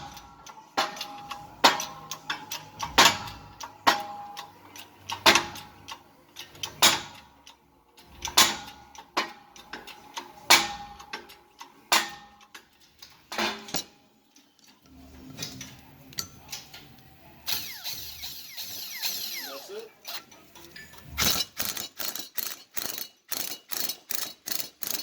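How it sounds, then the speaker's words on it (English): A new bearing and spindle being pressed into a Mazda RX7 hub, a series of sharp metallic clicks and ratcheting ticks at an irregular pace, then a quick run of evenly spaced clacks near the end. "we're over here pressing in the new bearing and spindle"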